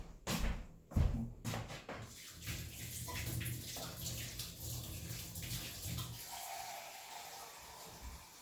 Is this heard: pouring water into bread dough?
yes